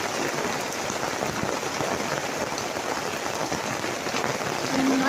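Heavy rain falls steadily on a garden gazebo in a wild garden, a dense, even hiss of drops drumming on the cover throughout, with no speech.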